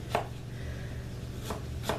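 Three crisp chops of a poor-quality knife on a cutting board while preparing taco soup ingredients, spaced irregularly over a quiet background hum.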